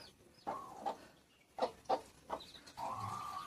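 Several close, distinct chicken clucks in short bursts, separated by quiet moments, ending with a longer drawn-out call.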